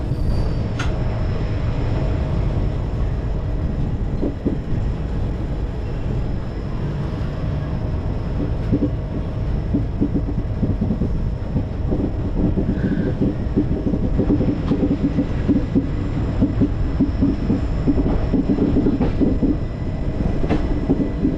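Chennai Egmore–Mangaluru express running near Shoranur, heard from inside the crowded general compartment: a steady, loud rumble with rhythmic wheel clatter over rail joints throughout, no talk.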